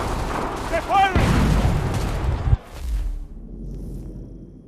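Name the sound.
cannon fire from the video game Assassin's Creed III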